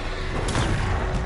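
A Confringo blasting curse explodes in the video game Hogwarts Legacy, a dense, sustained blast of rumbling noise that swells near the middle and stays loud and close throughout.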